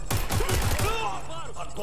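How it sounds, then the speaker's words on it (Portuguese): A rapid burst of gunfire in Watch Dogs: Legion, several quick shots in a row, followed by a faint whistling tail as it fades. "Vou trocar uns tiros, né?"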